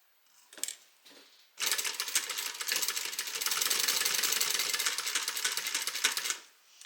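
A sewing machine stitches a bag seam, back stitching at the top, starting with a couple of brief stutters and then running at a steady rapid clatter for about five seconds before stopping.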